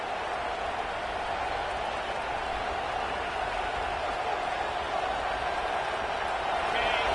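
A loud college football stadium crowd roars continuously as fans try to force a fourth-down stop, a dense sustained wall of cheering that swells slightly toward the end, with no clear speech.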